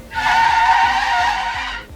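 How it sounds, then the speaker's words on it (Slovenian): Car brakes screech as a sound effect in a bedtime audio story, one loud, sustained squeal lasting under two seconds that swells, holds and fades out. "Zaslišim škripanje avtomobilskih zavor in nato krik."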